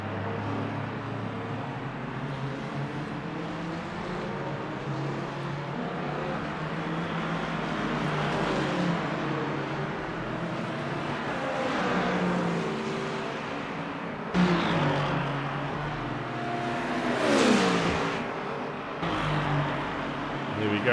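Race cars in a racing game at Fuji, engines droning and accelerating steadily throughout with rising and falling pitch as cars pass, a continuous mid-level roar with no speech.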